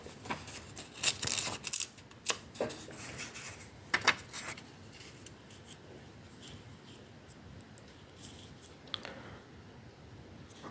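Paper being torn by hand in short, irregular rips for a scrapbooking ATC card, with the tears bunched in the first few seconds and then sparse crackles over a quiet room background.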